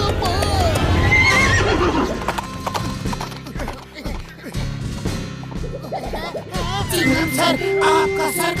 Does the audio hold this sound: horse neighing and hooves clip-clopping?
yes